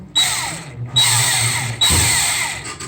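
Power drill boring out stuck EGR bolts on a Ford 6.7 diesel, three loud whirring bursts of drilling separated by brief pauses, close and alone without talk.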